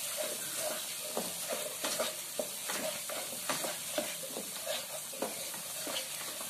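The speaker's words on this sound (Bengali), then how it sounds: "মশলাটার সাথে কাজু বাদামটা যে বেটেছিলাম সেটা মিশিয়ে নিচ্ছি" A spatula stirs and scrapes spice paste mixed with ground cashew in a pan, giving a steady series of scraping strokes over a soft continuous sizzle, close and moderately loud with no talk.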